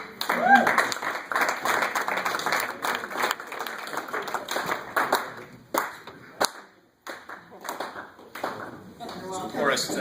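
An audience at an awards dinner clapping as a presenter is called to the stage, a dense wash of claps that thins and fades near the end, with talk underneath.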